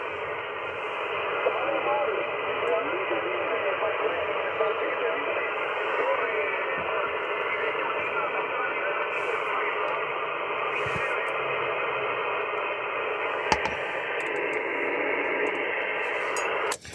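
A 10 m HF amateur radio signal received on a Kenwood TS-830S or Icom IC-7300 with a 5/8 vertical antenna, a band-limited hiss carrying a weak voice that swells and sinks with fading, steady throughout.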